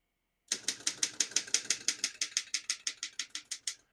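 Steady run of sharp keystrokes on a 1934 Underwood No.6 manual typewriter, about five per second, crisp and close with metallic clacks and no voices.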